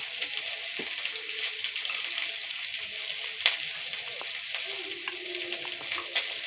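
Chopped onion and slit green chillies frying in an oiled pan for a Bengali sour chachchari, a steady close sizzle that crackles and spits continuously with no one speaking.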